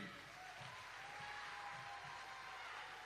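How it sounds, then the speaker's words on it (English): An audience applauds an award winner at an awards ceremony, a steady, even wash of clapping sustained throughout, faint and somewhat distant, with no voices over it. "Shall we applaud him again?"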